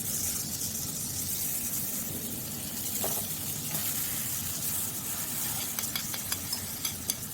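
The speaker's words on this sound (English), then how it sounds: "So now we are giving the marinade chicken in the pan." Steady, hissing sizzle of marinated chicken frying in a hot pan, continuous and close, with faint occasional crackles and no voices.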